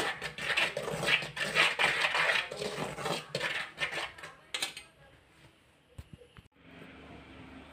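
A spoon mixes rice flour with water in a bowl, giving a busy run of scraping, clinking and knocking against the bowl that thins into a few sparse taps near the end.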